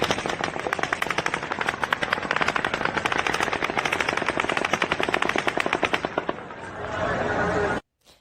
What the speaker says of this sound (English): At 10:13 and 30 seconds, the 10th volley of automatic gunfire begins.